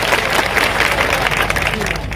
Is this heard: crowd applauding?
yes